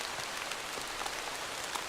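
Steady rain falls in the horror game Chasing Static, a dense continuous hiss of drops on surfaces with no pauses, close and even in loudness.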